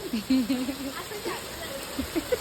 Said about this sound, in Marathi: आता पाऊस बघा